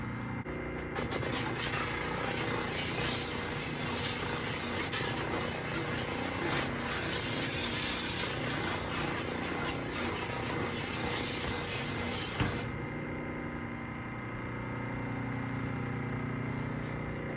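A Grizzly drum sander fitted with a Sand-Rite canvas sanding bag roars steadily and loudly for about twelve seconds, then cuts off abruptly and leaves a lower, fading hum.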